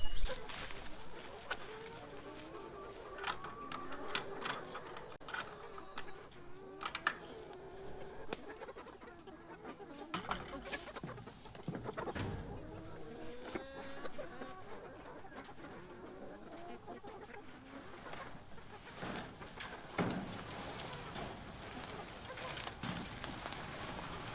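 Hens clucking and murmuring in a steady, busy stream with occasional louder squawks, close by at a chicken tractor, with footsteps and rustling mixed in.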